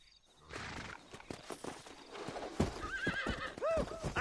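Horse hooves clip-clop at a walking pace in the Red Dead Redemption video game, close and steady, followed by a horse neighing and whinnying loudly near the end.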